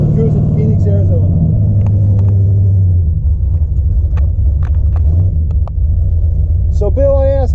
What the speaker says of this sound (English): 1970 Camaro Z28, 454 engine in it.